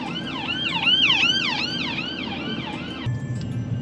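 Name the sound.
ambulance siren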